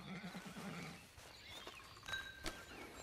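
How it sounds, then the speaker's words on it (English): A horse in the video game Red Dead Redemption 2 gives a short neigh amid low rumbling game ambience, with faint clip-clop and a few sharp clicks, moderately near and not very loud. "Just get on the horse when you're good and ready"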